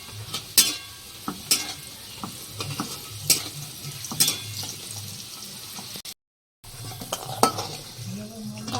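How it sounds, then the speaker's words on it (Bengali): Potatoes and lentil dumplings (bori) frying in a pan, a continuous sizzle broken by repeated sharp scrapes and knocks of a spatula stirring against the metal, close and clear. "আমি আলুর সঙ্গে বড়িগুলো একটু ভেজে উঠিয়ে নেবো একবারে"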